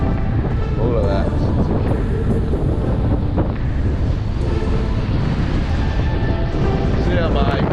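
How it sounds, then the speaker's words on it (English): Gale-force wind at Salt Creek on the coast, a loud continuous roaring buffet battering the microphone with surf and water noise mixed in, and a voice talking underneath. "it is blowing a gale"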